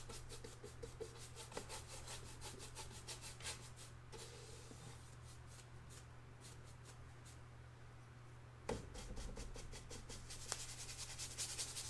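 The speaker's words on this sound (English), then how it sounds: "Just scrubbing this color. You want to make sure you work it into the canvas." A paintbrush scrubs oil paint into a canvas, giving rapid rhythmic bursts of soft rubbing strokes, faint and close, pausing briefly in the middle before resuming.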